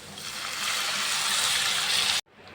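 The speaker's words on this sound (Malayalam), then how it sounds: "ഞാനിവിടെ ഒരു 1/4 കപ്പ് വെള്ളം ഒഴിച്ച് കൊടുക്കുന്നുണ്ട്" A quarter cup of water poured into a thick onion curry masala in a pan, a steady close hissing splash lasting about two seconds before cutting off abruptly.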